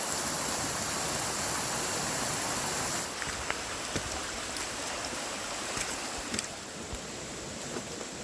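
Steady rain falling outdoors while walking in Japan, a dense continuous hiss throughout that softens slightly partway through, with a few faint taps and patters standing out near the end.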